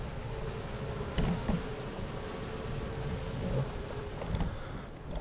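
Honey bees buzz and forage around a small five-to-six-frame hive being built up for almond pollination. The buzzing is a steady hum, with individual bees passing close now and then.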